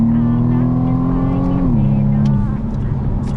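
A BMW 1 Series M135i (F40) engine roars loudly with a steady, throaty drone under acceleration, its pitch holding then dropping slightly as it keeps pulling, up close and continuous.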